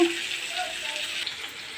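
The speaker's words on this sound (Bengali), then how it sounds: "এই একসঙ্গে ভেজে টমেটোটা এর মধ্যে দিয়ে দিলাম।" Tomato frying with spices in a hot pan, a steady close sizzle running throughout with faint stirring scrapes.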